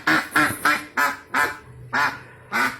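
Ducks for sale at a seller's place in Sawangan, Depok, quacking loudly and close by in a steady series of about seven harsh calls spaced evenly apart.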